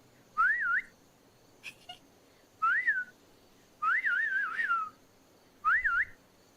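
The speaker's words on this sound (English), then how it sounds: "That's the only whistling I can do." A person whistles short warbling phrases, five bursts separated by brief pauses, clear and close with no talking, during a dark storytelling session about urban legends.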